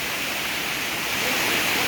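A natural waterfall in Karen State with water cascading down in tiers makes a dense, steady roar of rushing water close by, with no pauses.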